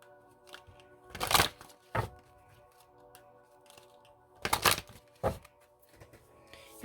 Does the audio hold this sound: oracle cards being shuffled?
yes